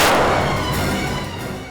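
A single loud gunshot booms right at the start, followed by a long rumbling echo that slowly fades away.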